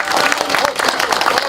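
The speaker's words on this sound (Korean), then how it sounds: "한번 박수 부탁드리겠습니다." Crowd applause at a closure agreement ceremony for the Yongsan Let's Run culture center, dense rapid clapping close and loud throughout the short burst, with voices mixed in.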